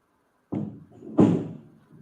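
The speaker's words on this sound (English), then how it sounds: "you might hear that door close again" A door closing inside a house, two soft muffled thuds about half a second apart in a quiet room, the second slightly louder.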